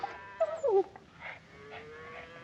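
A dog whimpers and whines in a few brief rising-and-falling cries outdoors on a ranch range, with a faint whine trailing after; no talking.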